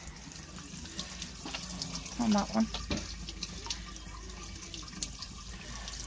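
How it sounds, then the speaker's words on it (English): Water from a container emptied slowly into an outdoor drain in snowy weather, running and splashing steadily throughout while a person talks nearby. "Let me just empty in that one slowly. It does all come down into the drain."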